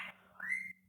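A pet parrot gives a single short whistle that rises and then holds steady. It sounds close and clear, comes after a brief breathy onset, and plays with no talking.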